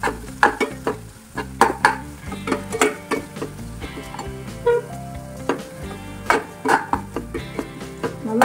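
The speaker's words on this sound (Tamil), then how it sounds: "இப்போ நம்ம வந்து நல்லா வதக்கி விட்டுக்கலாம்." Two large cut onions are sautéed in a pan, with a steady sizzle broken by frequent close, sharp scrapes and clinks of a spatula stirring the pan in an uneven rhythm.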